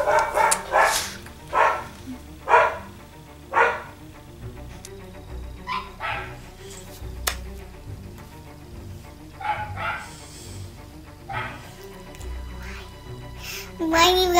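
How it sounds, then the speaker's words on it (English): Several dogs bark in sharp bursts throughout, fairly close, with a voice and other chatter mixed in between the barks. "my dogs are barking, so I apologize about that"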